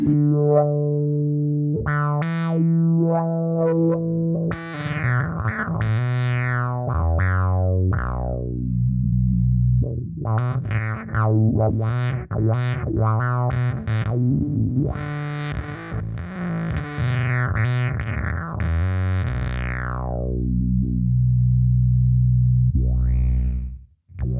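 Electric bass played through a multi-effects pedal with the wah engaged, a long run of sweeping, filtered notes and distorted, chorused tones, some sustained and some plucked quickly in bursts, loud and close, ending abruptly.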